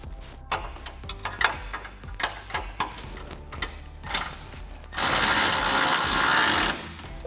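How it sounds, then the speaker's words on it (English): Ratcheting and tightening a hex bolt with a 13mm socket while installing a front fender flare on a Jeep Gladiator JT, a series of quick clicking bursts followed by a steady, loud whirring run lasting about two seconds. "we need a 13mm wrench to hold the nut and a 13mm socket to tighten the bolt down"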